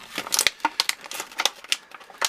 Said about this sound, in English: Let me cut through the tags, Muppet boy. Scissors.